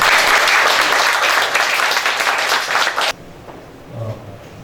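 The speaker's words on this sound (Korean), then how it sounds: "나올 때 박수를 한번 축복해 주세요" A church retreat congregation bursts into loud, dense applause that fills the room for about three seconds, then cuts off abruptly, leaving a quiet hall with a faint low murmur.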